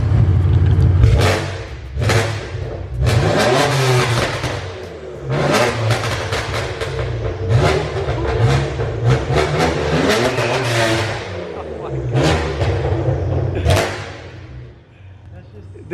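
A BMW F80 M3 engine revs repeatedly in sharp bursts, loud and close, with several throttle blips spread across the clip and voices talking over the engine.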